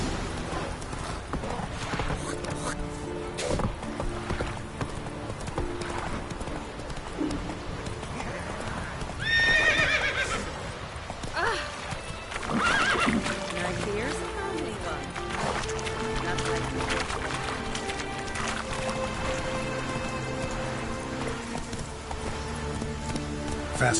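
In The Witcher 3, the horse Roach gallops with a rapid, continuous clip-clop of hooves and gives a whinny midway, heard close and loud, while character voices talk over the hoofbeats.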